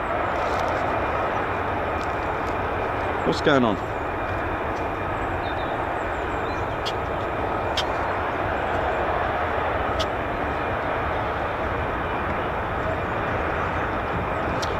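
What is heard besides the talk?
Lockheed Martin F-35A fighter jet flying overhead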